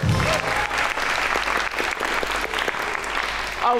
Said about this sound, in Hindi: एक थी लैला के लिए तालियां बजाएं